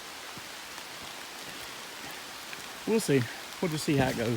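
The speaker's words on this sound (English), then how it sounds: "But it sounds like it's raining pretty good." Rain falling on a forest canopy during a hike in a state park, a steady soft patter and hiss throughout, with someone speaking close over it in the last second and a half.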